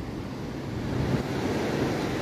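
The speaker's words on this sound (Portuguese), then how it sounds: "Mar muito agitado." Rough, agitated sea surf washes continuously onto a beach, a low steady roar of breaking waves mixed with wind, fairly quiet and with no talking.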